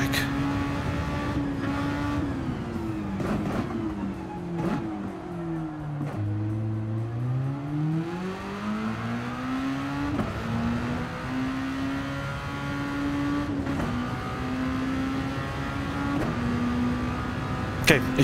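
A formula race car in the Gran Turismo 7 video game drones steadily with continuous engine tone, dipping on downshifts and climbing again through gears at moderate volume.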